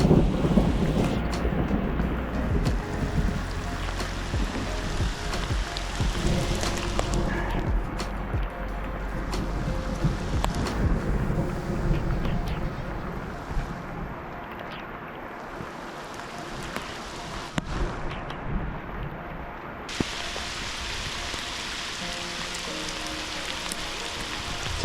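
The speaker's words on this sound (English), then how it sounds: "today it's raining again. It is pouring down now for sure." Heavy rain pours steadily at a forest lake campsite in stormy weather, a dense close hiss of drops on water and surfaces, with low rumbles and occasional knocks, no talk.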